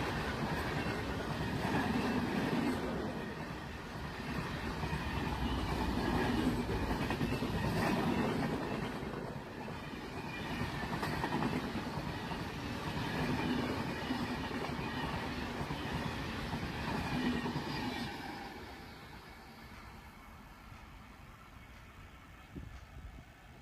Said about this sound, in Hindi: ये भी खूबसूरत लोकोमोटिव है।